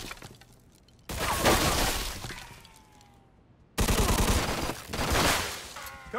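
Loud gunfire bursts in a Mafia 2: Definitive Edition shootout, two heavy volleys of shots and shattering separated by a quieter lull, with shouting voices faintly mixed in.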